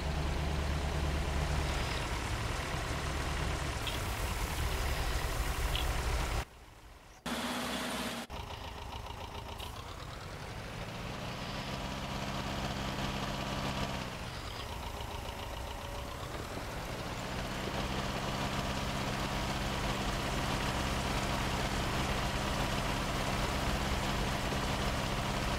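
A tractor engine runs in Farming Simulator 19, a steady mid-pitched drone that cuts out briefly and then settles back into an even idle and rising tone, loud and continuous with no talking over it.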